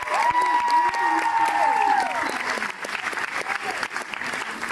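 A pageant audience gives contestants a round of applause, many hands clapping steadily throughout, with a voice or tonal sound drawn out over the first two seconds before the clapping carries on alone.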